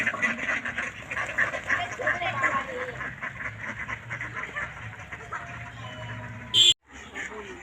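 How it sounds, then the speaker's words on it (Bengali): Ducks quack repeatedly on a weed-covered village pond, heard mixed with people talking nearby and other outdoor background noise. "পানা পুকুরে হাঁসেদের জল কেলি।"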